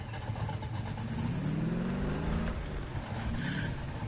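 A car engine revs and accelerates in a PS4 racing game, a steady loud roar that rises in pitch through the middle and then settles, heard alone without talk.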